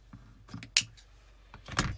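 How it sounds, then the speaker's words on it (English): Scissors snip ribbon at an angle for a bow, giving a few quiet, close, crisp cuts spaced irregularly. "So I'm just going to cut some angles here."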